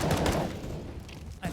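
Rapid gunfire bursts from a Counter-Strike match, a dense spray of shots at the start, then quieter scattered pops and a final thump, under a caster's commentary.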